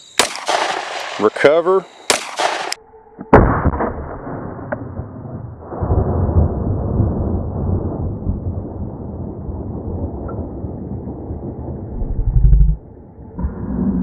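A pistol fires several loud, sharp shots in quick succession at close range, each with a short crack and echo. A brief spoken word follows, then a low rumbling ambience.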